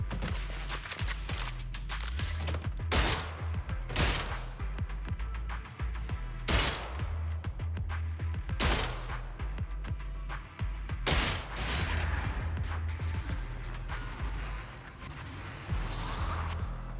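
Repeated gunfire on a shooting range in the Zenless Zone Zero video game, with bursts of rapid shots and several heavy booming blasts spread over the stretch, loud and continuous with no talking.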